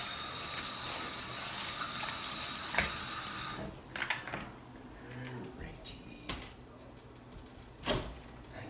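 Juice from cooked ground turkey drains through a strainer: liquid pours in a steady rushing stream for a few seconds, then stops, followed by scattered clinks and knocks.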